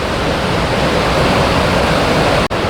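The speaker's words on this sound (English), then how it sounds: "this is probably one of the best water features in the Twin Cities metro area right here, Minnehaha Falls" Minnehaha Falls in Minneapolis roars as a steady, loud wash of rushing water close by, with no other sounds standing out.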